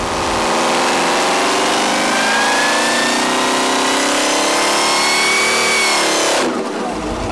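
Supercharged Cadillac LSA 427 V8 on an engine dyno, running on 93-octane pump gas, making a loud sustained pull that climbs steadily in pitch for several seconds before cutting back abruptly near the end.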